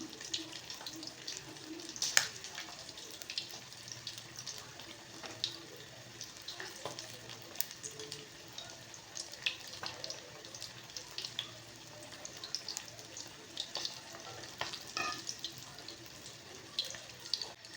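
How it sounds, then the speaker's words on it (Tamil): Pieces of murrel fish go into a pan of simmering fish gravy, giving faint wet bubbling and scattered soft plops and sizzles, with no talking. "இதில் நம்ம வச்சுருக்க அந்த விரால் மீன் துண்டுகளை சேர்த்துக்கலாம்"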